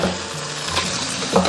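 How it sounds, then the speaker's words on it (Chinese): Crab and winter melon stir-fried in oil in a clay pot, a steady close sizzle with the scrape and clatter of a spatula stirring through it, continuous and fairly loud. "接着下入冬瓜，然后简单的把这2者给它炒一下"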